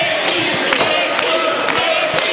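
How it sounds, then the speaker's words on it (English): A wrestling crowd at a hardcore match in Philadelphia cheers and roars steadily, with scattered sharp thuds and shouts cutting through the constant loud din. "Listen to this crowd getting behind Mickie here."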